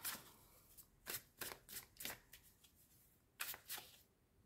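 Tarot cards gathered and shuffled, a quiet series of crisp riffling bursts in uneven rhythm with short pauses, close and soft, no talking.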